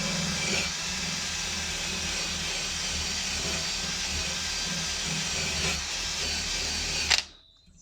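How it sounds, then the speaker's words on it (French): A drill fitted with a wire brush cleans a lawnmower blade, giving a steady, loud whirring hiss that runs without a break for about seven seconds before stopping abruptly, no talking. "J'ai mis une brosse métallique comme ça au bout et c'est parti."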